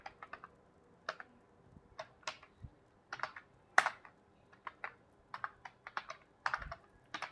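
Keyboard typing while entering text into an admission form in MS Word, heard as irregular bursts of crisp key clicks with short pauses between words, close and fairly quiet, no talking.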